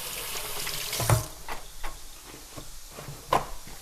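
Water running from a tap with splashing as hands are rinsed, punctuated by a few sharp clinks and thuds nearby.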